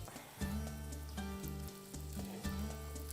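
Individual chicken meatloaf frying in a pan over medium heat, giving a steady close sizzle with faint crackles throughout and no talking.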